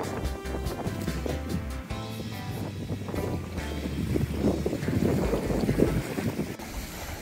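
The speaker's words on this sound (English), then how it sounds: "Downwind sail, just left Happy Bay," A sailboat runs downwind after leaving Happy Bay in the Whitsundays, with wind buffeting the microphone over rushing water and hull noise throughout.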